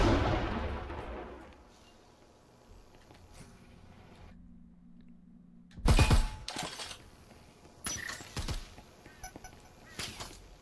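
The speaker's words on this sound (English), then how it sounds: "Frag going in there, not quite landing where they need." A frag grenade thrown and detonating in the VR shooter Breachers: sharp, shattering blasts hit around the middle of the clip, followed by further cracking bursts over a quiet, faint background.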